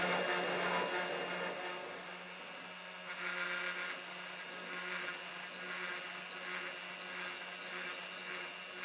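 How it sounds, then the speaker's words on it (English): CNC router cutting wood with a 3mm ball nose bit, a faint steady spindle whine with a soft high hum, rising slightly in rhythmic passes as the tool moves through the workpiece. "My first cut is being done with a ball nose bit."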